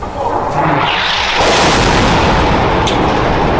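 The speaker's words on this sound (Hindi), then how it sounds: "एक रॉकेट गिरने के बाद तो ऐसा धमाका हुआ कि कान के पर्दे फट जाएं।" A rocket strikes during an Israeli airstrike on Gaza, a loud booming blast that swells into a sustained roaring rumble, close and overwhelming, with no voices.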